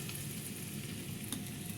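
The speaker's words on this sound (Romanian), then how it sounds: "baconul l-am pus la prăjit și pastele fierb acolo" Bacon frying in a pan for pasta carbonara, a steady close crackling sizzle that runs without a break and without voices.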